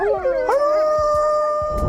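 Several wolves howl together in a chorus, with long sustained wailing tones overlapping and sliding in pitch, loud and close, against faint background noise.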